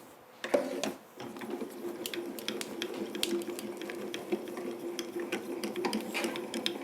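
Manual die-cutting and embossing machine cranking a plate with craft dies through its rollers, giving a quiet, close, steady grinding run dotted with small clicks and ticks after an initial clunk.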